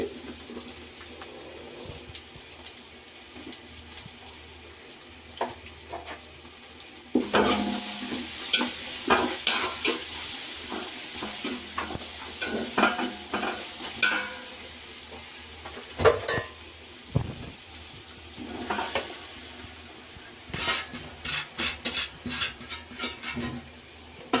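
A spoon scrapes and stirs through Rayalaseema-style uggani in a pan as turmeric is mixed in, with soft sizzling underneath and irregular clinks and scrapes, close and fairly loud, no talking.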